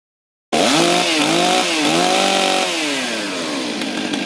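A Stihl MS362 chainsaw starts abruptly after a brief silence and runs loud and close, its whine rising and dipping through a few revs before settling into a steady roar.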